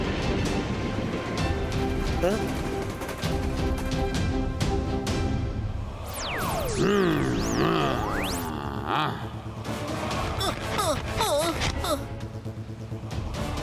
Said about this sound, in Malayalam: ഇതെന്താ ട്രെയിൻ ഓട്ടോമാറ്റിക് ആയിട്ട് റിവേഴ്സ് പോകുന്നേ